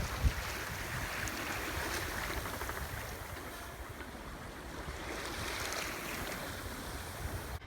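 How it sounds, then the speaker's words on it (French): A sailboat slides along the water under sail with the engine off, a steady rushing wash of water along the hull mixed with wind, continuous and fairly soft with gentle swells in level. "il n'y a plus le moteur, puis là, on entend vraiment le bateau glisser sur l'eau"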